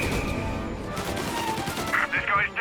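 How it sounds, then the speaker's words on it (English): Gunfire in the Mafia video game, a rapid volley of sharp shots crackling over a busy game soundscape, with a few brighter ringing hits near the end. "Reports of gunshots."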